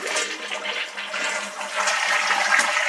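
A household toilet being flushed after its tank float and set screw were adjusted, a loud close rushing and gurgling of water that continues steadily throughout without speech.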